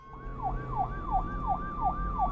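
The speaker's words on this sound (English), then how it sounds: "they hear the sound of a siren. It is a police car." A police car siren wails in a steady rising and falling cycle, repeating about every third of a second to half second, loud and continuous with a low rumble beneath and no voices.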